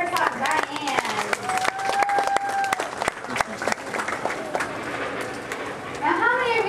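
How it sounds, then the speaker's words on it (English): An audience applauds a Harris hawk at a bird show at Busch Gardens, Williamsburg, with steady, full clapping throughout and voices and whistle-like calls rising above it. "how about a big round of applause for our Harris hawk, Diane."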